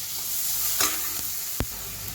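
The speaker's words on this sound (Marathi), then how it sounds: "तो फोडणीमध्ये परतून घेऊया कांदा थोडासा परतून झाला की मग टोमॅटो घालायचा" Onion frying in a little oil tempering with curry leaves and asafoetida in a wok, a steady soft sizzle with a few brief stirring scrapes, close and alone.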